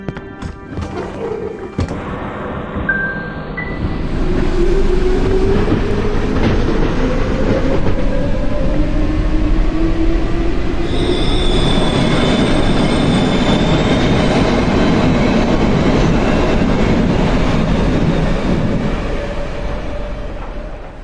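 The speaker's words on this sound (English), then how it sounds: "You take the 2 fuses to the train, and now the train is activated." In the horror game Cry of Fear, a train starts up with clanks, then builds into a loud, continuous rumble with rising squeals from its wheels and clattering along the track for about twenty seconds. No one speaks.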